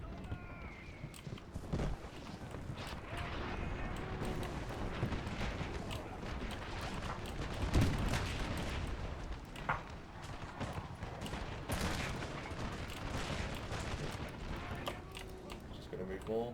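Artillery fire in a Napoleon Total War battle, with British guns pounding French lines amid a dense battlefield din of booms, marching and hoofbeats, one heavier thud standing out near the middle; commentary talk runs over it.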